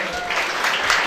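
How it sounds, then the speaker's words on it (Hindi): Applause from a stage-event audience welcomes someone speaker, dense clapping that is steady and fairly loud for about a second, with a voice faintly over it. "जोरदार तालियां इनके लिए।"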